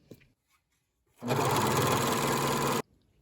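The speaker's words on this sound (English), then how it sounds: "I almost finished hemming this piece, and I broke a needle." A sewing machine hemming petticoat fabric runs in one steady, close, fairly loud burst of stitching lasting about a second and a half after a brief quiet.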